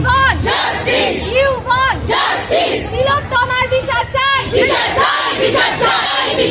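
A loud crowd chants and shouts slogans in unison at a candlelight march through the streets of Jadavpur, Kolkata, voices rising and falling in repeated rhythmic bursts that fill the whole stretch.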